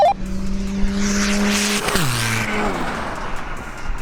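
Two tuned 500 bhp diesel cars, a Seat Ibiza 1.9 TDI and a BMW 330d, race side by side, with loud sustained engine drone and a sharp gear-change dip partway through, then continued roaring acceleration and broadband rush.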